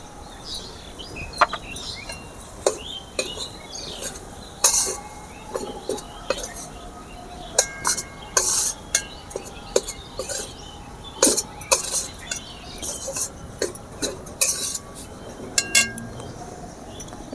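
Potatoes mixed with spices and cornflour in a bowl give off irregular clinks and scrapes of a spoon against the dish, sharp metallic taps scattered over a quiet kitchen background.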